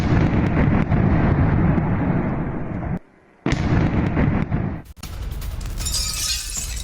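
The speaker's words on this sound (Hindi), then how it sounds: "यूक्रेनी सैन्य पोस्ट पर जोरदार बमबारी की गई" Air strike explosions on a military post in Kharkiv, heard as a dense, loud crackling roar of blasts that cuts out abruptly, resumes, then gives way to a sharp bang and lighter debris noise.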